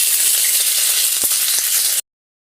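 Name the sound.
dried red chillies sizzling in hot oil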